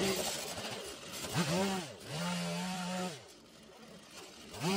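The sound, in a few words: power tool cutting a river channel out of wood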